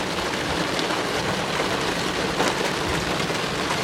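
Heavy, steady rain pours down during a dangerous lightning storm in Cambridge City, Indiana, a dense unbroken hiss of falling water with no thunder or voices standing out.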